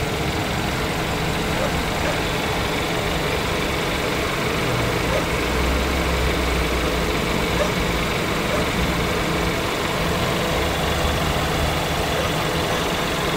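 A car engine idles with the air conditioning switched off, giving a steady low rumbling drone that stays even and unchanging at close range for the whole stretch.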